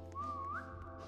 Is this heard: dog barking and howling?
no